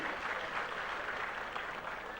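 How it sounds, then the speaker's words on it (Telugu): An audience at a government meeting applauds in a steady, continuous burst of clapping, fairly distant and even, with no voices over it. "గట్టిగా చప్పట్లు కొట్టండి."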